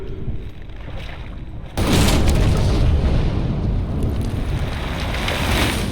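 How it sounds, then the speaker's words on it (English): In the video game Evil West, an explosion goes off with a sudden loud boom after a quieter rumbling start, then holds as a dense, sustained roar until the end, with no talking. "Now that is how you shape an explosion."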